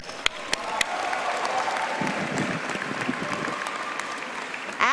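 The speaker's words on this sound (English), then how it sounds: "let's have a round of applause." Convocation audience applauding a graduating student speaker, a steady wash of many hands clapping in a large hall, moderately distant, with a few sharper individual claps near the start and the applause continuing evenly to the end.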